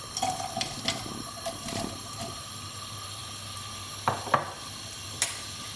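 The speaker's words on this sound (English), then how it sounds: "So once the oil is hot, we can add our onions." Onions go into hot oil in a pan for a Bangladeshi vegetable curry, giving a soft close sizzle with scattered clinks and scraping bursts, no one talking.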